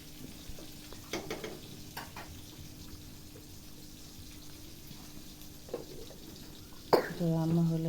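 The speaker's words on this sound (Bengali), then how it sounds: "মাছ এখানে মাছ চুলায় বসাই দিছি। মাছটা ভাজা হইলে তারপর মাছটা রান্না করবো।" Fish fries in oil on a kitchen stove with a low, steady sizzle, fairly faint, broken by a cough or throat clearing and a brief tonal sound near the end.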